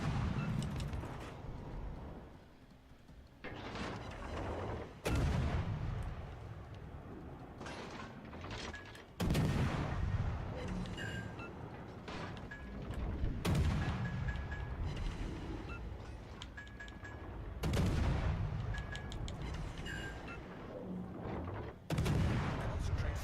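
Heavy warship naval guns fire in repeated booming salvos roughly every four seconds in World of Warships: Legends, loud and close, each blast trailing into rumble, with a voice talking over parts of the battle.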